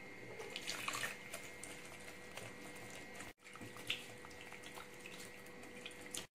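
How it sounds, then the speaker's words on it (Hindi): Water poured little by little into a bowl to mix batter for street-style gobi Manchurian, a faint, continuous trickle and splash in a quiet kitchen with no talking. "अभी थोड़ा थोड़ा पानी डाल के इसका मैं एक अच्छा"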